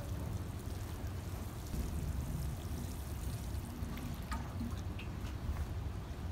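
Water pours steadily onto blueberry plants, a constant, moderate rushing stream with a few scattered drips and no talking.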